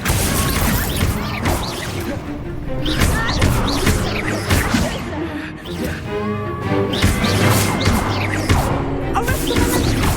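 Expelliarmus and Accio spells cast in combat in the video game Hogwarts Legacy: a dense, loud run of whooshes, thuds and crashing impacts follows one another in quick succession, with faint voices mixed in.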